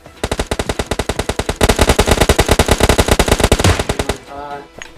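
In the PUBG Mobile video game, loud close automatic gunfire rattles in rapid, evenly spaced bursts for about four seconds, then stops abruptly into quieter game sounds.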